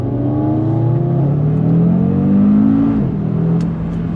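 A 2019 Audi RS3 Saloon accelerates hard on a twisting road, its engine note rising steadily through the revs as a loud, close, continuous roar that dips briefly near the end.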